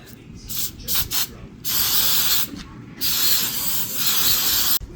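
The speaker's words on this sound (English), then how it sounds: "Got some Aquanet hairspray. This is dumpster salvaged. I am going to spray the moss." Several hissing sprays from an Aqua Net hairspray can onto moss, a few short bursts followed by longer sustained blasts, close and fairly loud, with no voices.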